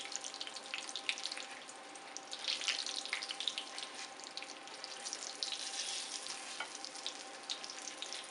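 Eggplant slices sizzling in a cast iron pan over medium heat, a steady close crackle and spatter of hot oil with small pops throughout, nobody speaking.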